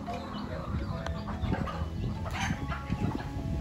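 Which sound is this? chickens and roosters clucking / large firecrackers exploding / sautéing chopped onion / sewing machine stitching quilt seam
chickens and roosters clucking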